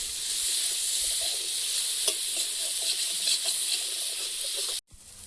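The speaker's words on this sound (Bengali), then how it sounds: "উচ্ছে তিতো কমানোর জন্য আগে ভাজা হচ্ছে।" Bitter gourd frying in hot oil in a pan gives a steady, close sizzle with faint stirring clicks, then cuts off abruptly near the end.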